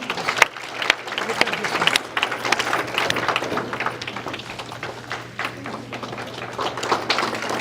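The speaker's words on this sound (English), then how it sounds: "please let's give her a round of applause" An audience at a Guru Purnima celebration applauds steadily and loudly, a dense clatter of many hands clapping that keeps going throughout.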